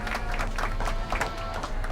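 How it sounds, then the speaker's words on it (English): Dense, steady clapping from a crowd in the video game Back to the Future: The Game, bright and continuous for a couple of seconds with no pauses. "How about a round of applause just for the heck of it?"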